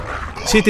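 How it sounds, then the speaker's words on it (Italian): Dog barking in a Backrooms horror video game, a short yip-like bark bursting out loud at the end of a brief moment while a player talks over it. "Il cane è qua, Andrea. Io non so se può aprire le porte il cane."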